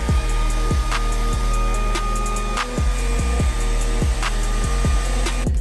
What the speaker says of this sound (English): Just gonna use a blow dryer and some leather conditioner.